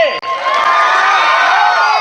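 An audience at a village comedy show cheers and whoops loudly, a sustained roar of many voices, including children's shouts, swelling close up over a couple of seconds.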